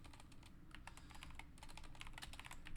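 Typing on a computer keyboard, a quick irregular patter of small clicks and taps, close and fairly quiet, running on without a pause and with no voices.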